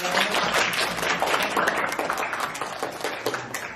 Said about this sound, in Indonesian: Sekali lagi tepuk tangan lagi dong.